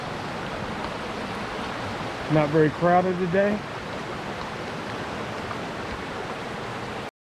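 Waterfalls and running water along the White Oak Canyon hiking trail, a steady broad rush of water that continues throughout, with a brief spoken remark partway through.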